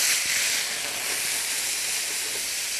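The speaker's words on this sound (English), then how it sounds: "We're going to deglaze with about a cup of wine" Wine poured into a hot pan to deglaze it gives a strong, continuous hiss of boiling and steam, steady and close with no voices over it.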